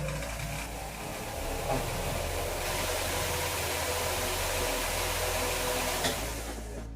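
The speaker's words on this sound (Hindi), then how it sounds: "देखिए थोड़ा सा फैन चला रहा है, कितना आवाज आएगा वो थोड़ा सा सुनिएगा।" Electric fan running steadily in a small cyber cafe room with no air conditioning, a continuous broadband whir with a low hum underneath, even and unbroken throughout with no voices.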